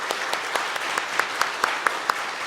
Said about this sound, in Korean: 우리 격려의 박수 한번 해주십시다.